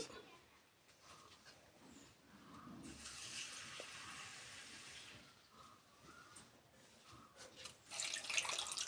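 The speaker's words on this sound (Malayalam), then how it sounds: "ശർക്കര നമുക്കത് ഒരു കപ്പ് വെള്ളം ഒഴിച്ച്" A cup of water poured over 300 grams of jaggery in a pot for a jaggery syrup, giving a soft, faint hissing pour that swells for a few seconds amid quiet kitchen background.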